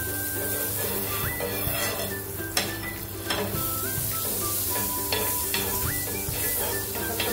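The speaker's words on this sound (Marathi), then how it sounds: "पॅन आपला गरम झालेला आहे, त्याच्यावर आपल्याला बटर लावायचं आहे" Butter sizzles in a hot pan with a continuous crackling hiss, joined by spatula scrapes and light clinks of utensils against the pan.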